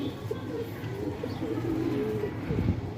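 A Ferozpuri pigeon coos close by in soft, repeated low throaty calls over a steady background hum, with faint voices nearby.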